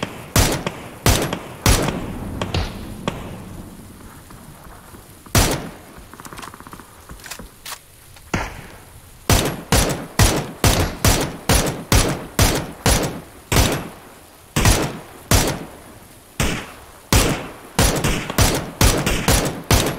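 Gunfire in the PUBG game aimed at a boat on Erangel: loud, sharp shots in irregular bursts that then settle into a fast, steady rapid-fire string lasting many seconds.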